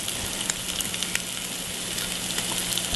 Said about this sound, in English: we're going to start off with a little bit of bacon and just render